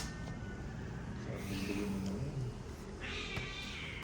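A cat meows in a plaintive, drawn-out cry close by, over steady background noise, with a second rising meow toward the end.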